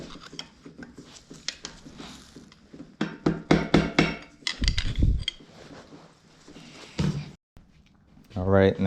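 A soft hammer taps on an engine iron during an engine teardown, giving several dull, uneven knocks mixed with clinking of metal parts. A person speaks over some of the work.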